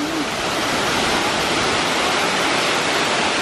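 A waterfall on a hiking trail along the Ruta de las Flores in El Salvador roars as a steady, loud, dense broadband rush of falling water, continuous and close, with no voices.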